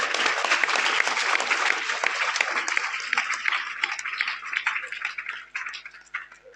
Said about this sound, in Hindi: बहुत बहुत जोरदार तालियां आपके लिए।